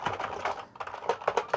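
Key presses on a Sega Dreamcast computer keyboard, a quick run of close, clicky taps in an uneven typing rhythm, with a brief pause midway before several sharper strokes.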